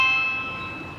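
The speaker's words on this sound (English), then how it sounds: "you push the doorbell and someone is at your front door" A Ring Wired video doorbell is pressed at a front door, giving a single short electronic chime with clear sustained tones that ring close and fairly loud, then begin to fade.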